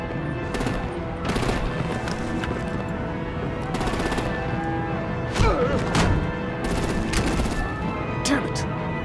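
Rapid bursts of machine-gun fire and heavy gunshot blasts in a Batman Telltale Series video game battle, repeated loud volleys with booming impacts.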